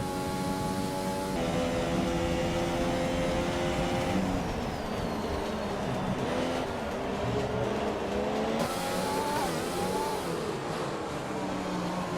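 F1 race car engines in the F1 2020 and F1 2017 video games on PS4 Pro at the Dubai track, a whining engine note rising and shifting through gears under steady background noise.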